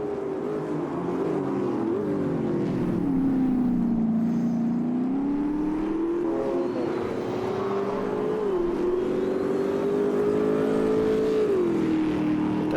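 A Chevrolet Camaro GT4 race car engine in a racing video game drones loudly and steadily, its pitch rising and falling through gear changes and throttle lifts.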